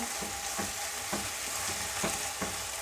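Brinjal and potato frying in a pan, a steady close sizzle with a run of rhythmic spatula scrapes and taps roughly every half second, with no voices.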